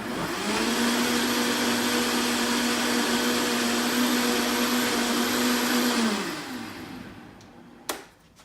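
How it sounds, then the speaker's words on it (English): A Vitamix blender running at variable speed, mixing butter into coffee: a loud, steady whirring drone for about six seconds that winds down as the motor stops, followed by a brief clunk. "I use my Vitamix blender. I just use the variable speed and I don't go to high speed."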